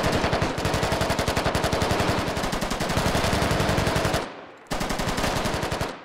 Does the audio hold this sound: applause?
no